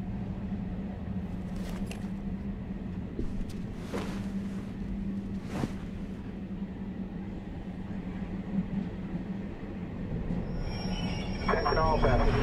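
Train rumbling and braking to an unexpected halt in the game Beyond: Two Souls, a steady low rolling drone with brief squeals, rising toward the end, while a voice speaks over it.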